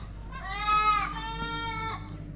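Several young goats bleat in overlapping, drawn-out cries, fairly close and loud, over a low steady background rumble.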